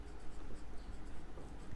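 Marker or chalk strokes on a classroom board during an 8th-class maths lesson, a close, quiet series of short scratchy scrapes in quick succession.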